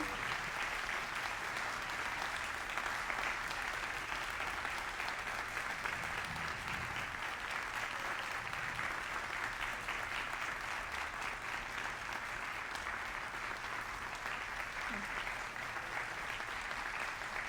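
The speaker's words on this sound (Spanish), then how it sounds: "vamos a darle un fuerte aplauso a nuestro doctor, el primer astronauta mexicano" Sustained audience applause for astronaut Rodolfo Neri Vela at a conference, a steady dense wash of clapping from a large crowd that holds evenly for its whole length without a break.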